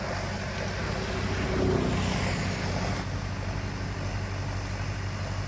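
Mahindra Arjun tractor engine running in first high gear at around 1400 rpm, a loud, steady, continuous low rumble that stays constant throughout, with no voices.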